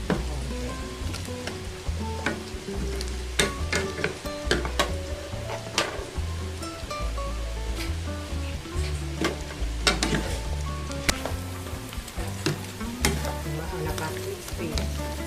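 Pork belly sautéing for lechon paksiw, a steady close sizzle and frying crackle with stirring clinks and scrapes of a utensil against the pan, a voice talking over it throughout.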